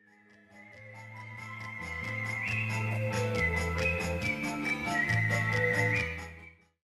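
A melodic whistled tune rises above a warm orchestral backing, the clear whistling line gliding and trilling steadily across the whole phrase before fading out.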